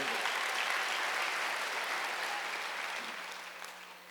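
Applause from a church congregation at a Wednesday worship service, a dense sustained clapping that carries on steadily before fading toward the end, with no voices over it.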